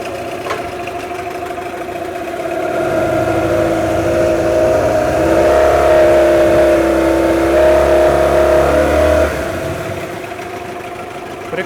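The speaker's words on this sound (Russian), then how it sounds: "Даем прогреться. Отлично работает, как новый мотор." A Yamaha 9.9D outboard motor idles steadily while warming up after a rebuild, a close, even mechanical hum with a slight rise in the middle before easing back.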